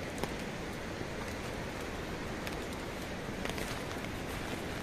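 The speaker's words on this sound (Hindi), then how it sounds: "और बारिश तो हो ही रहा है, हल्का फुल्का बारिश चालू है।" Light rain falls steadily on a mountain trek toward Madhyamaheshwar, a soft even hiss of drops filling the whole stretch with faint scattered patters, and no voices.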